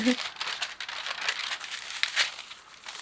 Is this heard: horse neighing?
no